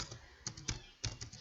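Light keyboard clicks, a handful of separate keystrokes at an uneven pace, quiet and close, while typing on a computer keyboard in Word.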